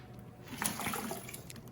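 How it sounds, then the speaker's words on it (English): Fermented cranberry makgeolli, a Korean rice wine, is poured through a filter bag, giving a soft, close liquid splash and trickle that swells briefly and then keeps running quietly. "So pour them through the filter bag"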